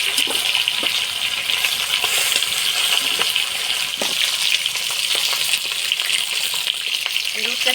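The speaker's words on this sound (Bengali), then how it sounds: "মাছের মুড়াগুলো আমি ভালোভাবে ভেজে নিলাম" Fish heads fry in hot oil with a steady bright sizzle and crackle, close and continuous, plus occasional clinks of a utensil.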